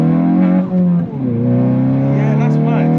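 A Hyundai i20N engine drones loudly and steadily with its pitch shifting as it revs under gear changes, recorded from inside the cabin.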